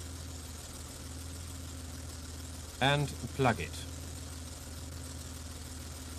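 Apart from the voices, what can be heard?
warm BMW engine idling, K-Jetronic injection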